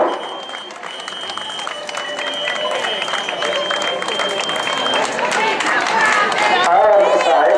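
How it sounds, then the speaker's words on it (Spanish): Crowd applause at a popular town footrace in Meaño, steady clapping and cheering building slightly over several seconds, with a loudspeaker voice and background noise mixed in. "Este aplauso para esta nena de este país."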